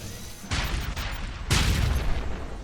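A boss claw in a Godot-made shmup is blown apart in two dull booming bursts, the second stronger, each a rumbling wash of noise from the game.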